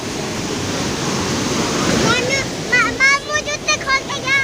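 A waterfall in a jungle gives a loud, constant rushing roar, with voices talking near the end.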